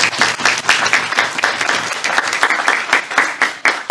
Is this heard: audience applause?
yes